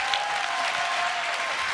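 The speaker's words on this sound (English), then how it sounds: "Let's give him a tremendous round of applause" A dense burst of applause at a motivational speech, many hands clapping steadily and evenly at close range for a couple of seconds.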